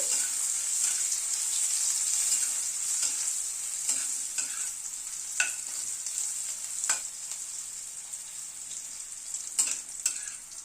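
Grated coconut lightly frying in a pan, a steady soft sizzle running throughout with occasional stirring scrapes and clicks, close and alone with no voices.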